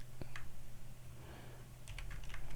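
Computer keyboard typing in a WordPress editing session, a few faint scattered key clicks over a steady low hum, no talk.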